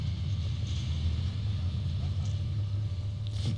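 A large blue gate at a Trinidad and Tobago cricket ground rumbles as a deep, steady low roar, continuous and somewhat distant, like far-off thunder, under faint background ambience.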